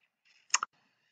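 A computer mouse clicked while building a WordPress website, a quick close double click, crisp and isolated against near silence.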